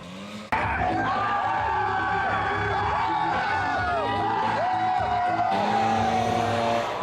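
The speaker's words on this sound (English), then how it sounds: "So much cheering, so much excitement." Caniacs cheer and whoop after the Carolina Hurricanes win Game 5 of the Stanley Cup Final, a loud, continuous crowd roar with shrill rising whistles and yells that stays dense throughout.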